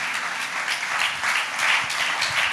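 Applause from a congregation during a Christian sermon, a steady wash of many hands clapping that swells slightly in the middle and holds without a break.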